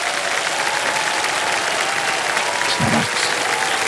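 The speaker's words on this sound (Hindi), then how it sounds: "तालियां बजदा इनके लिए" A studio audience on a televised Hindi quiz show claps in a loud, sustained wash of applause, with a brief voice rising over it near the end.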